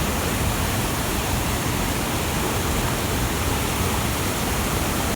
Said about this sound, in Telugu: అదిగోండి అదే వాటర్ ఫాల్స్.